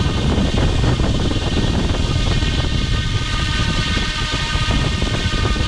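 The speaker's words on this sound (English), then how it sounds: "You can hear the wind from the helicopter." Strong rotor wash from a UH-60 Coast Guard Blackhawk GPS-enabled RC helicopter hovering nearby, a loud, continuous buffeting rush of wind noise over the microphone with no talk.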